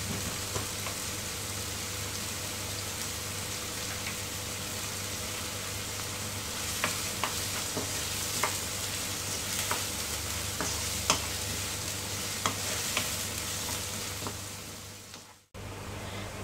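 Onions frying with salt in a pan for Indian-style masala pasta give a steady, even sizzle with scattered small pops and stirring clicks, close and continuous before a brief drop near the end.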